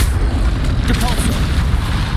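A Depulso spell cast in Hogwarts Legacy, a dense booming burst with rumbling low end and crackling impact noise, loud and sustained for about two seconds.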